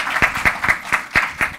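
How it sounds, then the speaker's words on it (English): A small audience at a presentation applauds with evenly spaced claps, close and fairly loud, a short steady round of clapping with no talking over it. "A round of applause for Harold and his presentation."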